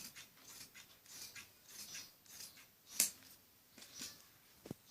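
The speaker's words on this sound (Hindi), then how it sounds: "और इस एक्स्ट्रा कपड़े को भी हम ऐसे काट देंगे।" Scissors snip through extra kameez fabric during dress cutting, giving quiet, close rasping and rubbing strokes with one sharp snap near the middle.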